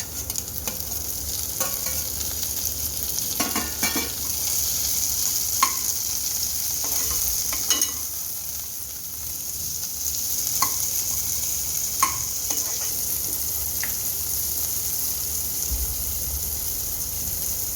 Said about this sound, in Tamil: இப்போ ஆனியன் ஓரளவு ஃப்ரை ஆனது உடனே சாப் பண்ண டொமேட்டோ சேர்த்துக்கலாம்.